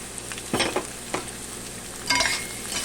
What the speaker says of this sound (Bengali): সবজিগুলো সামান্য একটু নাড়াচাড়া করে বেশি ভাজবো না